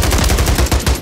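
Rapid sniper rifle fire in Modern Warfare 3 rings out as a loud, evenly spaced string of about six sharp cracks in quick succession, with no talk over it.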